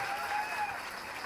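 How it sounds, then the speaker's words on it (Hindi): A brief burst of dense audience applause at a Hindi poetry recital (kavi sammelan), a steady wash of clapping with a faint tonal sound running through it. "तो जरा तालियां लहराइए"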